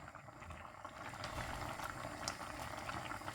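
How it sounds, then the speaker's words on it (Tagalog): A pot of chicken bubbles at a steady rolling boil, continuous gurgling and hissing close by with no voices. "So, binoiled muna natin yung ating chicken."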